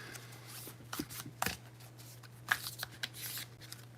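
Archetype cards being shuffled by hand: a run of soft papery riffles and slaps with sharper flicks, close and moderately quiet, with no one talking over them.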